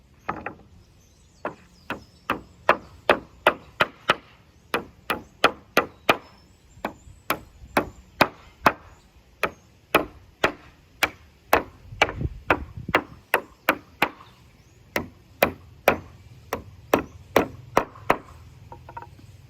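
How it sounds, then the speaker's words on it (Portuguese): Nails are hammered into wooden boards while building a low-cost greenhouse: a long run of sharp, evenly spaced wooden strikes, loud and close, with a few short pauses and no talking. "a gente está pregando a tábua de ponta a ponta"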